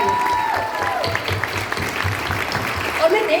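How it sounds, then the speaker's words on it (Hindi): Workshop audience clapping together, a dense, steady patter of many hands, while a voice speaks over it. "अल्पेश गज्जर जी के लिए मैं जोरदार तालियां बजवाना चाहूंगी, जोरदार तालियां।"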